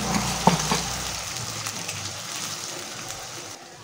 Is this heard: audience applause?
no